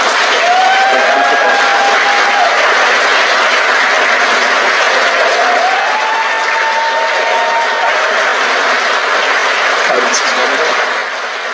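Sustained applause and cheering from a crowd at an Electron rocket launch fills the room steadily after main engine cutoff, with faint voices and tonal sweeps mixed in.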